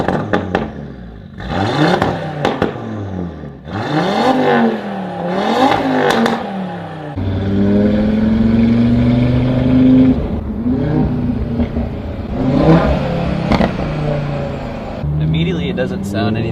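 A front-wheel-drive car fitted with an aftermarket downpipe, making over 170 horsepower, is heard from outside. Repeated rising and falling exhaust revs lead into a sustained, higher-pitched drone with more rev blips, all close and loud.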